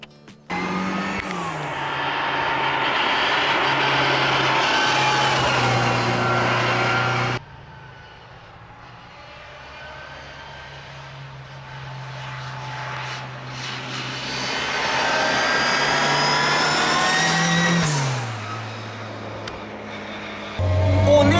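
A Mini Cooper engine running loudly nearby, rising and falling with sustained revs, dropping to a lower idle midway before climbing again, a droning roar with no talk.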